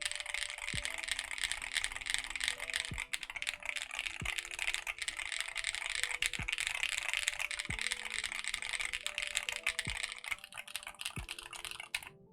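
Steady, fast typing on an Ellora65 mechanical keyboard fitted with proper keycaps, producing a dense run of close, crisp clacks with occasional heavier thocks from larger keys, heard alone throughout.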